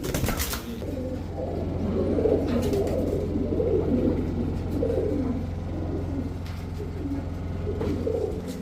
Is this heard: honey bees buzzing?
no